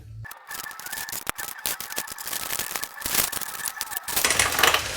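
Close metallic clicking and rattling as a wrench tightens the oil pan bolts against a fresh gasket on a 2007-2014 GMC/Chevy truck or Yukon, irregular ratchet-like bursts growing busier and louder toward the end.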